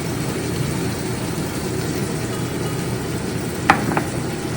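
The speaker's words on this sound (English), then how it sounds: "You want to hear that sizzle." Meat sears in a hot pan with a steady, quiet sizzle throughout, broken near the end by a couple of brief sharp clicks or taps.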